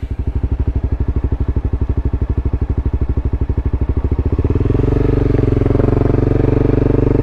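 A liter bike motorcycle engine runs close and loud, its steady pulsing beat thumping for several seconds before swelling into a denser, smoother roar as the revs climb.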